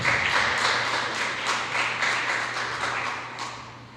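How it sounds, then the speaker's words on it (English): An audience applauding after a singer's performance, dense rapid clapping from a crowd that swells early and slowly tapers off, loud and close with a faint low hum beneath. "Give her another round of applause"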